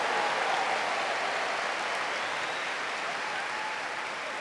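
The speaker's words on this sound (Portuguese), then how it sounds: "aplauda a sua vitória" A congregation applauds during a sermon, a broad, even roar of clapping that fills the room and holds steady from start to finish, with no voices standing out.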